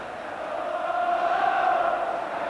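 Crowd of about 43,500 at Ibrox stadium for a sunny Rangers versus Aberdeen football match in 1989, a steady distant roar and murmur that swells slightly and holds throughout.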